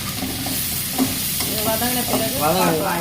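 Potato masala sizzles and fries in a pan while a spoon stirs and scrapes through it, a steady close crackle with light clinks.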